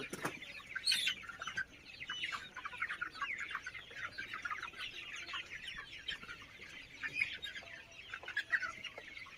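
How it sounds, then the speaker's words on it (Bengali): Young Sonali hybrid chickens, mostly roosters about 40 days old, cluck and chirp continuously in a flock, fairly faint and constant, with occasional wing flutters. "সবই কিন্তু এগুলো মোরগ"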